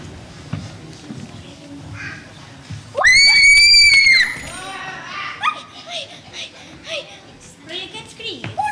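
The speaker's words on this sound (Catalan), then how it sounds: "Però i aquests crits?" People scream in a Catalan theatre play, a loud high-pitched shriek lasting about a second amid lively chatter and children's voices, followed by more excited calling.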